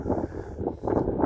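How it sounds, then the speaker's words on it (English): Wind buffeting a microphone outdoors on open high ground by Camber Castle, a sustained low rumbling roar that swells and dips in gusts over its short length, with no voices. "It's a bit windy up here now."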